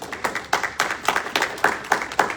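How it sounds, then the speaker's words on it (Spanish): Church congregation clapping together in a steady, rhythmic beat during a worship service, fairly close and uniform, with no talking over it. "Dale un aplauso al Señor."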